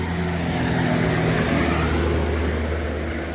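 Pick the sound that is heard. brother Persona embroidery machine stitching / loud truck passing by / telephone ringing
loud truck passing by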